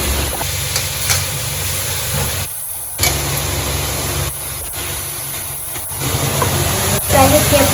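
Tempering spices frying in a pan with tomatoes and chillies for an arbi (taro root) curry, giving a steady broadband sizzle with a couple of brief dips, while a voice talks over it.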